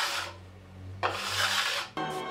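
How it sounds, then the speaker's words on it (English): Raspy scraping strokes of a card scraper shaving varnish on a drum shell, two or three passes with brief pauses between, close and fairly loud. "Using a card scraper, we level the surface of the varnish and shave off any drips or runs."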